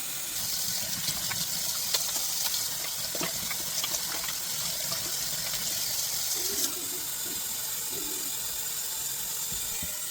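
Tap water runs steadily into a sink filling with soapy dishwashing water, a continuous close hiss and gush with no talk.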